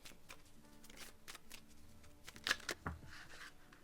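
Tarot cards being shuffled in the hands, soft rustling flicks and riffles in a quiet room, with a couple of sharper card snaps near the end; no talking.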